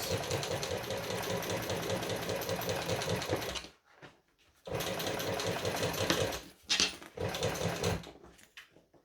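A sewing machine drives through a thick, multi-layered seam in two steady, loud runs of rapid stitching, separated by a short pause and followed by a few brief stop-start bursts.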